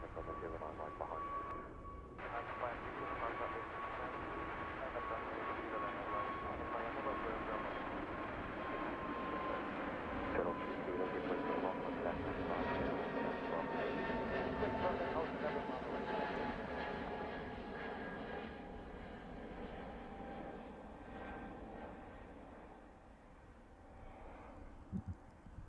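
A British Airways shuttle airliner departs Heathrow for Glasgow in the evening, a steady loud jet roar with a slowly falling whine that holds for most of the stretch and then fades near the end.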